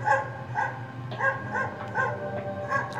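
A dog in an anime scene barks repeatedly in short, evenly spaced yips, about one every half second, over a steady background.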